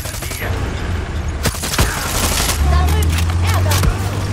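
Rapid bursts of gunfire in the video game Far Cry 6, with dense overlapping shots and a few sharper cracks, steady and loud throughout, layered over a low droning background.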